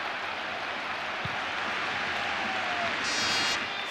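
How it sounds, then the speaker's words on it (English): Stadium crowd at Stadio Olimpico in Rome roaring after a Roma goal in a Serie A match against Parma, a steady broad wash of distant cheering that swells slightly toward the end. "Finally some cheer here at the Stadio Olimpico."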